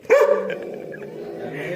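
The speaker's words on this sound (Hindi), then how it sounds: "सबसे आई थिंक खौफनाक, खतरनाक, डेंजरस कुत्ता हमारे पास यही है" Sheru, a farm guard dog kept to watch the animals in a village, lets out one loud, close bark followed by a softer trailing yelp, with background murmur after.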